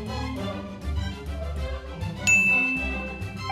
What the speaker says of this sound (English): Ring the doorbell and wait to be let in.